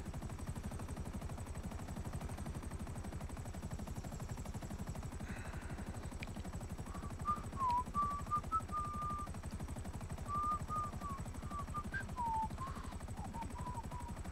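A helicopter in the Grand Theft Auto V video game, with a steady rhythmic rotor chop that holds throughout at moderate level and a few brief higher chirping sounds partway through.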